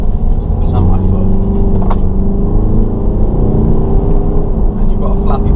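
Mercedes V250 Marco Polo camper van pulling away hard from a standstill, its engine note a steady, loud drone heard from inside the cabin with voice underneath.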